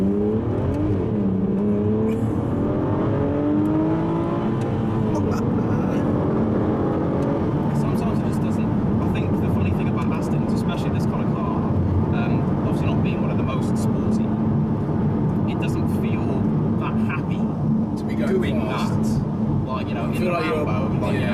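An Aston Martin DB9 supercar with a paddle-shift gearbox accelerates hard, its loud engine note climbing steadily and then holding a dense, roaring drone with faint voices underneath for the rest of the run.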